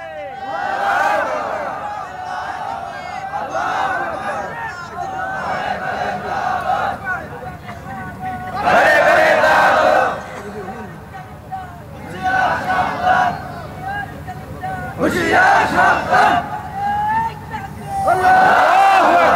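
Crowd of worshippers shouting slogans in bursts at an Islamic religious sermon, loud rhythmic group chants rising repeatedly over a preacher's amplified voice.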